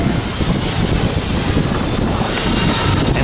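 An airliner taking off at LAX roars loudly in a dense, unbroken wash of engine noise that stays close and powerful throughout, with no voices over it.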